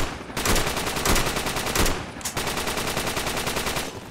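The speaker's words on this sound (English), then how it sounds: "Machine gunner's covering." Sustained machine gun fire in the Vietnam-era video game Project Reality rattles loud and close as rapid, evenly spaced bursts, with a few heavier shots and brief pauses between strings.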